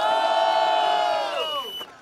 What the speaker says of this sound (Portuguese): Quem acha que deu Vinícius ZN, faz barulho